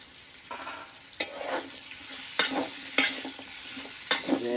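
Tomatoes fry in a pan for a wild tribal western Odisha dish, with a steady soft sizzle broken by several louder bursts of stirring and scraping, close and alone without talk.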